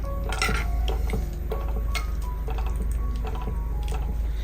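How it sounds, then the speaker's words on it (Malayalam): A spoon stirs a spiced cowpea curry in a metal pot with scattered clinks and scrapes against the pot, all over a constant low background hum. "ഇനി ഇതൊന്ന് ഇളക്കി കൊടുക്കാം."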